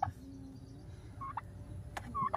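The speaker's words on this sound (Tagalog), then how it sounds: "Pabo, turkey." A turkey gobbles in a rural backyard, with short bursts of warbling calls spaced apart, moderately close and fairly quiet, with no talking.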